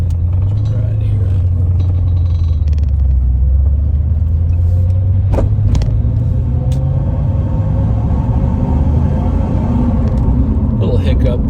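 A 1980 Porsche 928 with a five-speed manual runs under load, a loud, steady low engine rumble heard from inside the car, with a few faint clicks and knocks along the way.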